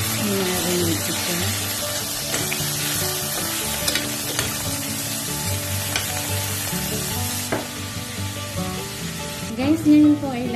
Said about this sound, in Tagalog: ngayon po ay ilagay ko yung breast chicken na hinarinate ko.